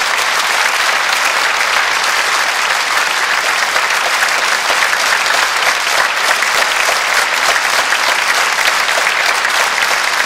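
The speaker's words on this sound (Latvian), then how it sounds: "Aplausi!" A concert audience at the national opera house applauding a maestro, with loud sustained clapping from a large crowd that stays dense and even throughout, with no speech.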